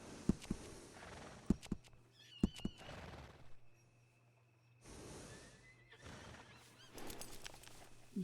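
A horse in the Western video game Red Dead Redemption 2 gives several sharp neighs and whinnies, close and clear, mixed with hoof clip-clops and snorts between quieter stretches.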